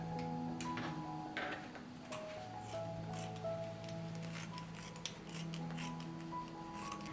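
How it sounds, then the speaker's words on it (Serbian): Scissors cut an old kitchen cloth into strips about 10 cm wide, making faint, repeated snipping and rasping strokes under a steady tonal background. "Jednu staru kuhinsku krpu iseći ću na trake širine 10 cm"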